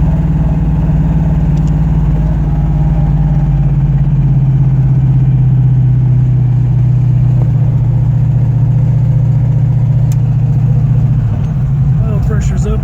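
A 1967 Mustang's fuel-injected aluminum 427 V8 idles loudly up close while warming up, a deep steady rumble that holds an even pitch before dipping and turning rougher near the end.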